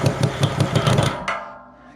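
A power drill drives a screw into an amp rack, a rhythmic pulsing whir of about a second and a half that ends abruptly, loud and close.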